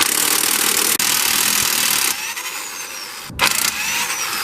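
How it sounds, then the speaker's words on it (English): Brand-new electric impact gun loosens 22mm strut bolts on a Toyota front strut assembly, a loud continuous close whir for about two seconds, then a softer whirring hum with a short sharp burst near the end. "now I'm going to come in with my brand new electric impact gun and take off these 22mm strut bolts"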